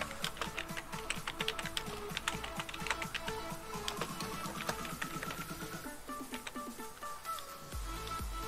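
Rapid, uneven clicking of computer keyboard keys being typed on at close range, in a continuous run of keystrokes with brief pauses, in a quiet room.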